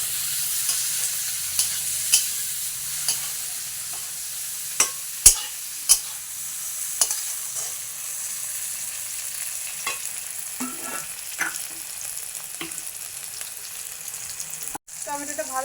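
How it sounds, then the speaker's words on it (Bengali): Tomatoes sizzling in a pan after fried onions, with a steady hiss and a series of sharp spatula clinks and scrapes as they are stirred, continuing for about fifteen seconds. "টমেটোটা একটু ভেজে নেবো একটু।"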